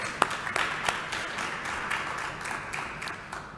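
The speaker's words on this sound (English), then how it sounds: "Can we give them a round of applause?" An audience at a book launch in Singapore gives a round of applause, a scattered, moderate clapping with a few sharper individual claps standing out early, then thinning and fading over a few seconds.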